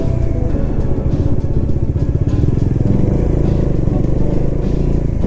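A Honda 350 motorcycle engine thumps steadily up close while riding a hill road, a continuous loud low throb with a bit of rattling and no pauses.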